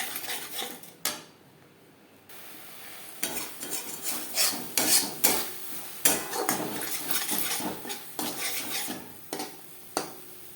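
A spoon stirs roasted cumin and coriander spices in a pan for a pomfret fish curry, giving repeated close scraping and clinking strokes with a light sizzle. There is a brief quiet pause near the start.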